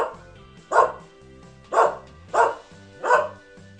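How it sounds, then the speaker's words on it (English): A dog gives four distinct, loud barks at close range, spaced about a second apart, with quiet pauses between them. "What is it that a dog does? Dogs bark."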